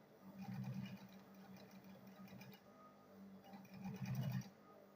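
A sewing machine stitches a school bag lining in two short, quiet bursts of rapid mechanical whirring separated by a softer hum, with no talking.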